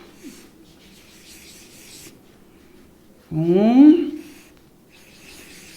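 Pencil or pen scratching softly on paper while six lollipops are drawn, a faint continuous rubbing texture beneath a single brief spoken word.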